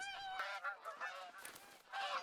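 Geese honking in a hunting game, a flock calling repeatedly in overlapping, nasal honks at moderate distance, continuous throughout with no talk.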